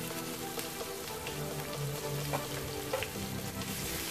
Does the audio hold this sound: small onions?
yes